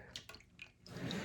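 Antifreeze poured into an RV sink drain, with faint trickling and drips rising into a steady low gurgle, quiet and close.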